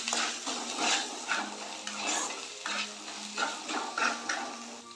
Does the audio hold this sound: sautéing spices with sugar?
yes